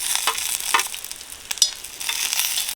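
Garlic, chillies and spices fry in a little oil in a pan, crisp crackling sizzles with soft stirring scrapes, close and fairly loud, no voices.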